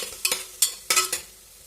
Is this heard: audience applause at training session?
no